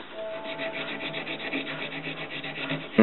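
A knife bolster is hand-sanded with 120 grit sandpaper, giving a continuous close, rhythmic rasping as the paper is rubbed back and forth over the metal, with no talking.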